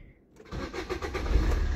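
A car's starter motor cranks the engine in a quick, steady whirring churn that rises in loudness as the engine turns over, heard close up with no talking.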